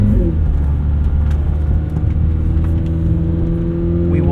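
A 2025 McLaren 750S sports car pulls away while its engine drones loud and steady from close by, with no voices.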